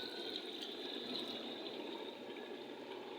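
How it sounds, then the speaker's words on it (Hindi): Lentil-soaking water poured steadily into a cooking pot, a continuous splashing, gurgling flow that stays fairly even and close throughout, with no talking over it. "ये जो पानी मैं ऐड कर रही हूँ ये वही पानी है जिसके अंदर मैंने दाल को गलाया है"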